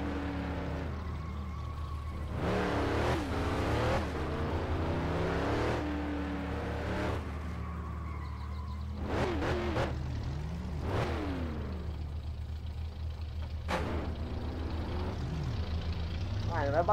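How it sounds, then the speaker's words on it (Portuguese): A car engine in My Summer Car, a Saveiro converted for drifting, hums low and steady throughout while people talk over it at length. "Será que já liga o carro assim, mano?"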